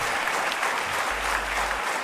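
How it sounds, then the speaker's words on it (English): Audience applause and cheering for a children's choir about to sing, a steady dense clapping that fills the whole stretch without a break, with no talk over it. "give a huge encouragement, a mighty round of applause for these boys and girls just before they get started"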